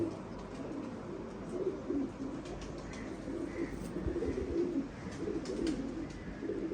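A female pigeon coos in low, repeated throaty calls that keep going at a moderate distance, with light chirps and soft ambient noise in the background.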